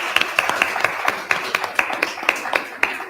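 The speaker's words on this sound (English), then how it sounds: "Well, clap for Andrea." Clapping for Andrea at the 2023 Freetown mayoral debate comes as a sparse, rhythmic run of distinct hand claps, roughly four per second, fairly close and sharp over a low murmur.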